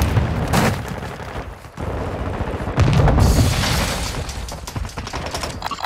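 Grenade blasts and gunfire in the shooter game Call of Duty: Modern Warfare II: dense, loud booms and crackling bursts fill the whole stretch, with a deep thump near the middle and steady battle noise throughout, no voices.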